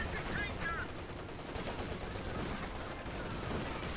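Machine gun fire in the strategy video game Company of Heroes 2, a steady crackle of rapid gunfire mixed with battle noise, heard at moderate level under game ambience with speech also present.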